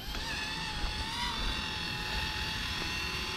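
An Eachine E120 RC helicopter flies with a steady, high-pitched rotor whine and motor buzz, constant and fairly loud throughout, close by.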